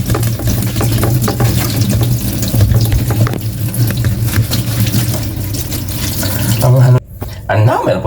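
Running tap water splashes steadily into a sink as moringa (malunggay) leaves are washed, a continuous close rush that cuts off briefly near the end.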